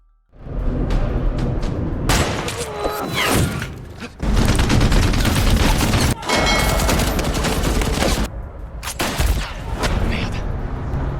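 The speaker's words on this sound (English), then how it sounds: "And shooting action ensued." Sustained gunfire shootout in a mountain setting with snipers firing from a distance, dense overlapping volleys of shots and heavy booms with brief gaps, loud and continuous throughout.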